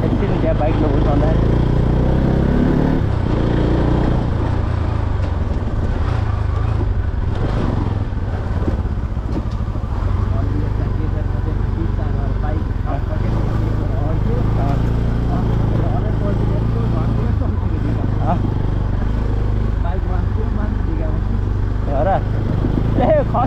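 A motorcycle on a village ride in Nepal runs continuously, its low engine hum steady and close, with people talking over the noise throughout.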